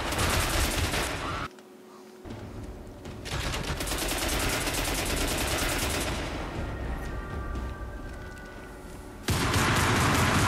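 Rapid bursts of rifle fire with explosive rounds in the Crysis shooter on Xbox 360, loud and dense, with a brief break before the shooting resumes and carries on to the end.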